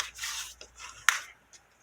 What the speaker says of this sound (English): I'm gonna go ahead and fold and burnish, just if I can figure out where the spatula is.